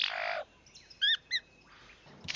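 A bird gives a few brief, bright calls outdoors, close and fairly faint, set between bursts of broadband rushing noise.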